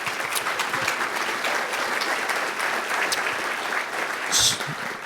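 Steady applause from a large audience at a DevOps Enterprise conference opening, greeting the event's platinum sponsors; dense, even clapping fills the room throughout with no talk over it.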